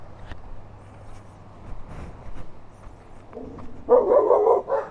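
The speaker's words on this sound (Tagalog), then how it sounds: "Oh, laki na aso." A big dog barks in a short burst near the end, loud and fairly close, after a stretch of quiet outdoor background during a stop on a long motorbike ride.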